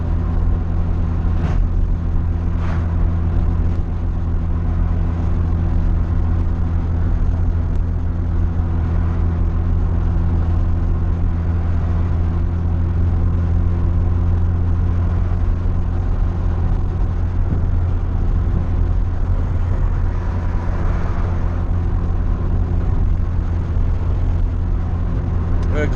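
A Mazda RX-7 drives through a Florida neighborhood after Hurricane Ian, its engine giving a steady low rumbling drone from inside the cabin for the whole stretch, with road noise mixed in.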